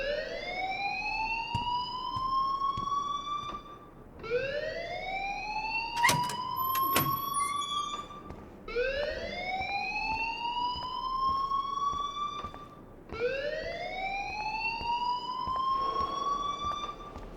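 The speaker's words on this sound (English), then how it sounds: "please turn off that alarm since that's your job." A school alarm in Life Is Strange Remastered wails loudly in four long rising sweeps, each climbing and then holding, with a brief clatter partway through.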